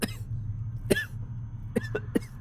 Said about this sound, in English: the scribe begins coughing violently